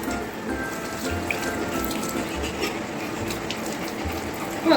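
Water runs steadily from a household tap into a sink, a continuous close rushing stream that carries on for the whole stretch without pause.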